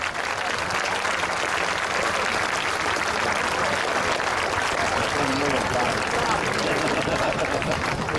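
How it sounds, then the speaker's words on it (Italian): A large outdoor crowd at the Jesolo European Air Show applauds the Frecce Tricolori team, a loud, continuous wash of many hands clapping with faint crowd babble mixed in throughout. "il primo applauso lo dedichiamo a tutta la squadra delle frecce tricolori"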